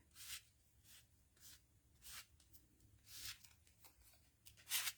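An old credit card scraping paint across a mixed media wreath of leaves, several soft rhythmic rasping strokes, faint and close, no talking.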